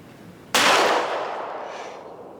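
A single sharp report comes from a Smith & Wesson M&P 2.0 Metal pistol firing hard-primer ammunition, loud and close, with a ringing tail that fades over a couple of seconds.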